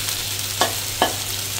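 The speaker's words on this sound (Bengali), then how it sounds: "আমি মাছটা ভালো করে ভেজে নই" Fish frying in a pan of oil for a gourd curry, with a steady faint sizzle broken by two brief louder bursts of spatter or stirring.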